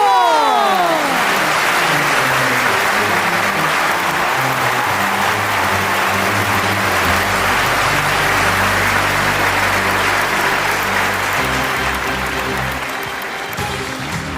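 Loud, sustained audience applause fills an Indonesian success-story stage event, steady clapping from a large crowd for about fourteen seconds, slowly tapering at the end.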